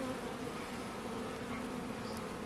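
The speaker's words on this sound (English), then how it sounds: "there's just bees moving around" Honeybees buzz around an open beehive during an inspection, a faint, steady hum of many insects that carries on evenly and undisturbed by voices.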